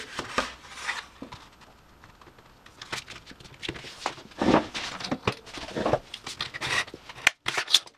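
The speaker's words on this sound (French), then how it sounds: "on va prendre notre petit papier qui va nous servir du coup de support. On va le plier." A sheet of paper is folded and creased by hand to make the base of a Minecraft-themed pop-up card, giving close, crisp rustles and sharp crinkling snaps in irregular bursts with no voices.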